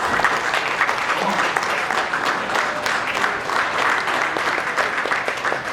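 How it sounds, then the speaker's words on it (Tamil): Audience applause at a web series thanks meet, dense and loud clapping from a crowd, sustained steadily throughout with no pauses. "ஸோ இவரை வந்து நீங்க கைத்தட்டி"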